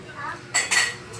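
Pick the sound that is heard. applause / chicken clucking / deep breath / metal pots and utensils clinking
metal pots and utensils clinking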